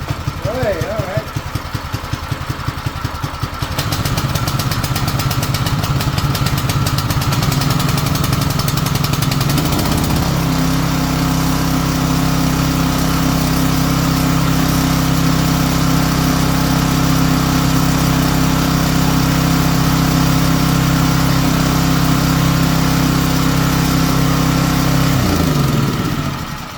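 A Predator 212 small engine runs during break-in, holding a steady, loud mechanical drone with a throbbing idle that continues unbroken for most of the stretch. Brief voices may come in near the start.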